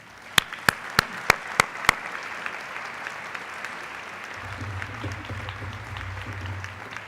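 Audience applause at a graduate honors convocation, a few sharp near claps at the start giving way to a steady, moderately loud patter of many hands, with a low rumble entering near the end.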